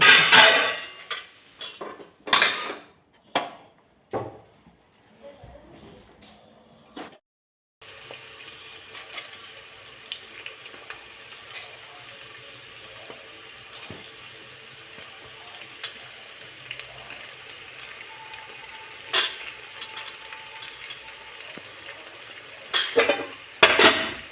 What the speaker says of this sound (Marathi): मिसळीचा मसाले भात बनवते